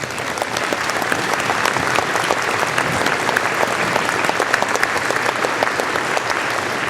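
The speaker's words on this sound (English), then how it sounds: "So let's give them a round of applause." Sustained applause from a large audience at a university commencement ceremony, dense steady clapping throughout with no break.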